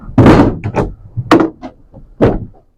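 A drawer being opened, heard as several close, loud wooden knocks and thumps in an uneven sequence, followed by quiet.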